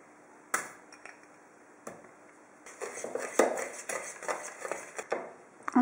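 Sugar and soft butter being mixed in a bowl for a Kinder Bueno cupcake base, with irregular scraping and clinking of a utensil against the bowl, sparse at first and then busier and more continuous, close and with no talk.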